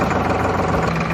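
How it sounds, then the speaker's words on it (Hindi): A tractor engine idles steadily, a continuous close mechanical drone with even vibration and no voices over it. "उसके बाद आप ट्रैक्टर को चालू कीजिए।"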